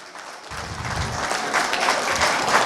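An indoor audience gives warm applause for a singer: dense, steady clapping starts half a second in and builds to a loud, sustained wash with no voices over it.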